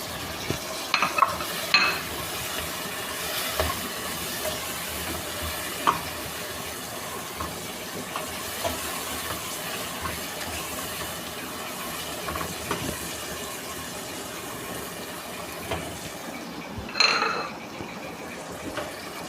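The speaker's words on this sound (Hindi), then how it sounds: "अब ये साबुत हरी मिर्चियाँ जो निकाल के डाली है वो भी इसमें तेल के साथ फ्राई कर लेंगे।" Whole garam masala spices and green chillies fry in hot oil for a restaurant-style white chicken korma, giving a steady, close sizzle and hiss with occasional stirring clatters throughout, and no voices.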